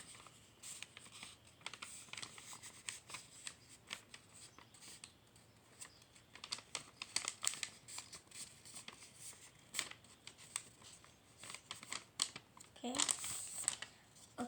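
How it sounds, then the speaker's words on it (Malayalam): Paper is handled and folded for a simple kids' craft, producing soft crinkling, creasing and rustling in irregular bursts at close range, with a louder crumple toward the end. "നമുക്കിത് ഒന്ന് ഫോൾഡ് ചെയ്യണം."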